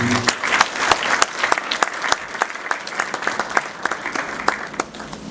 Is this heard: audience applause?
yes